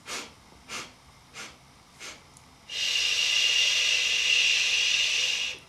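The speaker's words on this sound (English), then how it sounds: "4 sniffs." Four short, sharp nasal sniffs fall at an even beat during a singing breathing exercise, then a long, loud, steady hissing exhale follows right after them.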